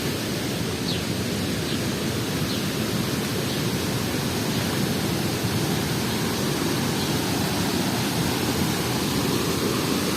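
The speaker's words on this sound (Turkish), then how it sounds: "Kervek şelalemizden de görüntüler bu şekilde." Kernek waterfall in Malatya pouring steadily, a dense, loud, unbroken roar of rushing water with no pauses and no voices over it.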